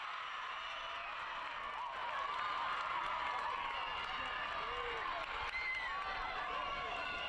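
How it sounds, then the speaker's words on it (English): Stadium crowd roaring and cheering after a shootout goal at a New England Revolution II versus FC Cincinnati 2 soccer match, a steady, loud, distant wall of noise with some clapping. "Sends the crowd into a frenzy here"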